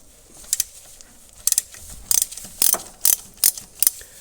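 A ratchet wrench loosens the bolts on a Volkswagen Golf mk4 TDI CV axle in short bursts of rapid clicking, about seven separate close, sharp ratcheting runs with quiet gaps between them.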